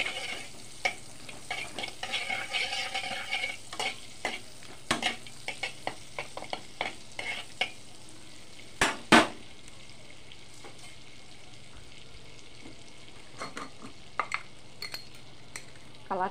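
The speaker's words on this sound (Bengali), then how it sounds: "তারপর দিয়ে দেব 3-4টে এলাচ আর একটা দারচিনি দিয়ে দেবো। দিয়ে বাটারটা একটু গলিয়ে নেব।" Cardamom pods and a cinnamon stick sizzle softly in melting butter for butter chicken, with a quiet frying hiss under scattered spoon scrapes and clinks against the pan.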